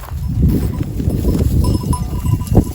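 Close-up rustling and shuffling of a flock of sheep, with low bustling movement and a faint bleat near the end, no talking.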